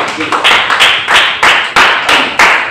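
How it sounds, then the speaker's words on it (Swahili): A group clapping hands in a quick, steady rhythm, sharp and close, with no talking. "Pigia Yesu makofi"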